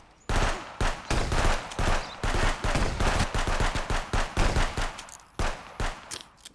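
Rapid gunfire from a shotgun and other weapons during a border attack in the Contraband Police video game, loud repeated close blasts in dense bursts with brief gaps between volleys.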